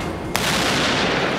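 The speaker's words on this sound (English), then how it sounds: "it will ignite a fuse, which will in turn set off a big explosion" A big explosion set off by a burning fuse on a science entertainment show bursts with a sudden sharp crack, then a sustained loud roar that fills the rest of the moment.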